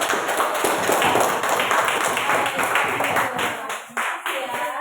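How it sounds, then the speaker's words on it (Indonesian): A classroom of students claps together in a dense, rapid burst of applause that lasts a few seconds before thinning out near the end. "Oke, tepuk tangan dulu"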